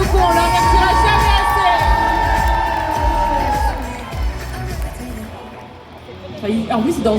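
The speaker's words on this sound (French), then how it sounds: "Applaudissez-les bien fort" Crowd at a cosplay contest cheering and whooping with shouted voices, loud at first and then thinning out before a brief swell of noise at the end.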